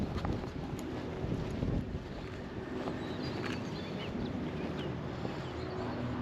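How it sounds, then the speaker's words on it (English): Wind buffets the microphone on a hilltop park in Reading, a steady low rumbling roar with gusty swells and no talking. "so gets the wind up here"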